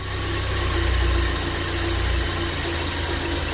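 A small engine with a freshly adjusted DAAZ carburetor idles steadily and evenly nearby, a smooth continuous rumble with faint mechanical vibration.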